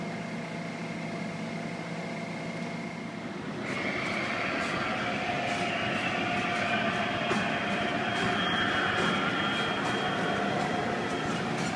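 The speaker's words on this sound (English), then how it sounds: "Every other day it's a Pacific Surfliner train set, or it is a Amfleet Horizon train set." An Amtrak Pacific Surfliner train with Amfleet Horizon cars rolls along, a steady rumbling hum heard from on board, with a tonal whine rising and holding after a few seconds.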